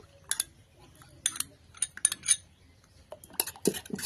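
A spoon clinks and scrapes against a metal pot while stirring yogurt into warm milk for sweet curd, a string of light, irregular taps and chinks close by in a quiet kitchen.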